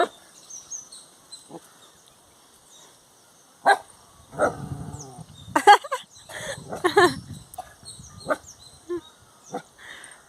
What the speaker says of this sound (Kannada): ನಾಯಿ ಬಾಗತೈತಿ